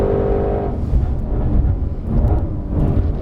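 Orange 2020 Ford Mustang Shelby GT500 with the track pack on Michelin Pilot Cup 2 tires, taking a hot lap on a circuit; a loud, continuous engine roar that swells and dips as the car works through corners, with no talking.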